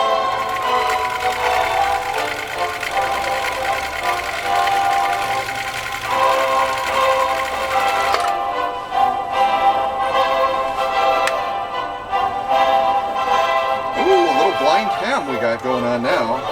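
A Husqvarna Viking CL21A sewing machine stitching through three layers of genuine cowhide leather, a loud, continuous mechanical whir and rhythmic needle clatter running throughout, with a voice talking briefly near the end.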